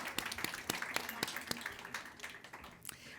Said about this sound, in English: rounds of applause is good